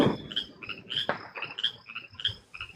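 Several small frogs croaking in quick repeated chirping calls, a lively near chorus with a brief rustle, no talking.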